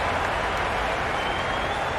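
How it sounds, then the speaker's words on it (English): Dense, steady roar of a cricket crowd applauding a batsman's boundary, loud and continuous throughout with no individual claps standing out. "Will you listen to the crowd?"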